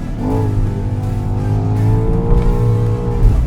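BMW XM SUV engine pulling hard through winding S-bend corners, a loud, close, sustained revving drone whose pitch rises and shifts with the throttle, heard alone without talk.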